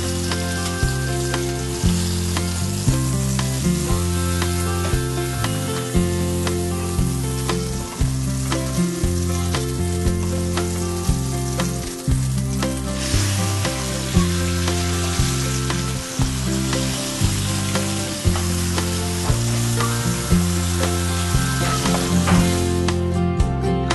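Meat sizzles steadily in a hot pan for a long stretch, a constant crackling hiss with occasional stirring.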